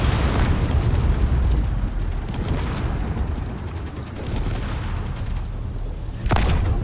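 A massive torpedo hit on a drone in a space combat video game: a loud, sustained explosive roar and rumble fills the clip, fading slightly before a sharp final burst near the end.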